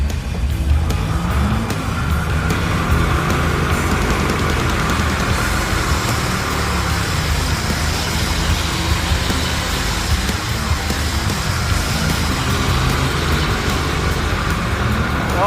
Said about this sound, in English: But will it do a burnout? Oh, this baby is supercharged.